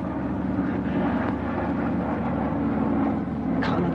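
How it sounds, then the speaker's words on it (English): A wartime airplane drones overhead in a 1950 WW2 film, a steady loud engine hum that holds throughout without any talking. "Perhaps it's that plane."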